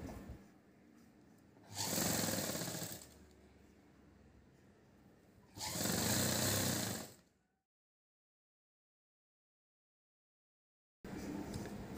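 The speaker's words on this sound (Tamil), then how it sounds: "பொடிசாக பொறுமையாக மடித்து தைங்க." A sewing machine runs in two short stitching bursts on folded fabric, separated by quiet pauses, followed by a stretch of silence and then another burst at the end.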